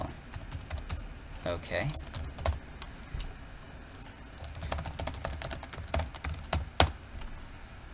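Rapid typing on a computer keyboard while editing code, with dense clusters of key clicks and brief pauses, and a voice briefly speaking over it.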